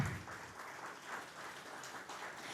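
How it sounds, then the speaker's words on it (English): Audience applause at a company's bell-ringing listing ceremony, a steady dense wash of clapping across the whole stretch, moderately loud and continuous with no talk over it. "So I would like you all to clap hard for this wonderful man,"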